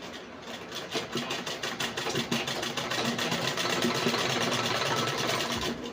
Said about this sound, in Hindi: एक साथ सिलाई करना है लाइनिंग और मेन फैब्रिक दोनों